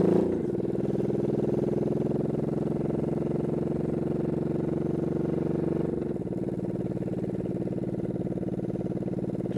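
A motorcycle engine runs steadily nearby with a loud, even idle drone, dipping slightly in level partway through and then holding steady, with no talk over it.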